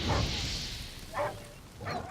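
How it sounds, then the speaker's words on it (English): Dogs bark and yip in the Witcher 3 video game, three short bursts spread across a couple of seconds over a low continuous game background. "Made quick work of that dog."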